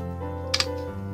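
Two quick computer keyboard clicks from typing a password land close together over a steady, humming background.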